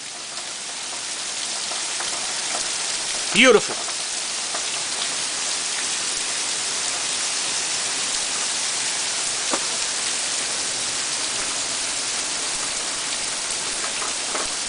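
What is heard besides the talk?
rain falling outdoors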